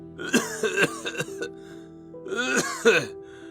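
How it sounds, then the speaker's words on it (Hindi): Two bursts of harsh, throaty coughing separated by a short pause, close up and fairly loud. "खांसते हुए कमर पकड़कर खड़ा होता है"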